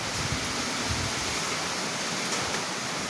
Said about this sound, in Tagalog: Sumisipol yung hangin.